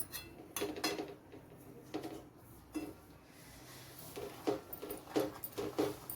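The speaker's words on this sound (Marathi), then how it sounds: "पाक टाकलं की असं ढवळत राहायचं" Clinks and scrapes of a spoon against a pan as sugar syrup is poured in and stirred into maida mawa barfi mixture, in irregular close bursts over quiet kitchen background.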